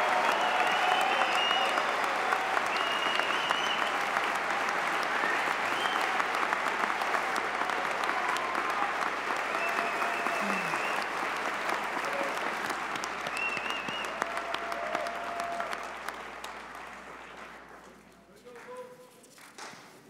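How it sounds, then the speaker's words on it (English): A large commencement audience at a College of Design graduation applauds the new graduates in a long, steady roar of clapping that holds for about fifteen seconds before tapering off near the end. "a round of applause for all of our students earning degrees today"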